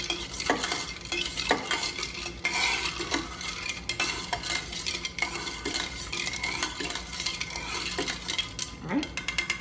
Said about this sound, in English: all I'm gonna do is stir this up